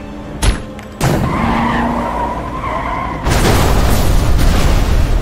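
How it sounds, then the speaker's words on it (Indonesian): A sharp crack followed by loud tyre skidding and engine roar as a car swerves after its tyre is shot in a film scene, with screeching sweeps and a heavier rumble building near the end. "John langsung menembak ban mobil si target hingga oleng"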